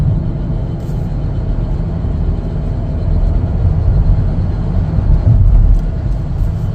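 A 2025 Chevrolet Blazer 2LT with cloth interior on a test drive, a steady low engine and road rumble heard from inside the cabin, loud and continuous with a slight swell partway through, no voices.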